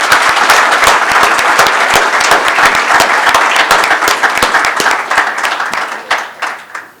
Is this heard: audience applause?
yes